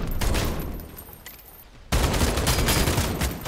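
Rapid gunfire from a short-range weapon in a vampire-themed Fortnite battle royale, a dense loud burst that drops off briefly and then resumes even louder and fuller through the second half.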